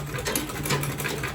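A sewing machine runs steadily, stitching through the quilted outer fabric of a tote bag while leaving the lining free, a continuous close-up whir without pauses.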